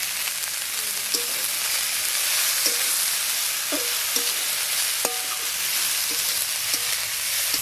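Kheshari greens sizzling and frying in a pan, a steady broadband hiss with occasional stirring clinks and scrapes, close and continuous with no talking.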